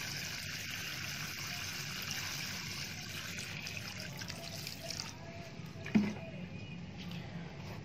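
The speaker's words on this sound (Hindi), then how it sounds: "दोनों पॉट्स को अच्छी तरह से एक दफ़ा भर के पानी दे देना है" Water is poured into two monstera plant pots in a garden shed, making a steady trickling, splashing flow that stays fairly even for several seconds with a brief louder splash near the end.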